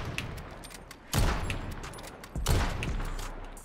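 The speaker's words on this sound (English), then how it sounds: "here's me normally shooting the Kar 98" A Kar 98 sniper rifle fires in the video game Modern Warfare. Two punchy shots land about a second apart, each followed by a short rolling echo and faint clicks of the bolt cycling between them.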